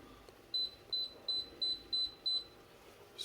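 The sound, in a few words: kitchen timer beeping while being set to 15 minutes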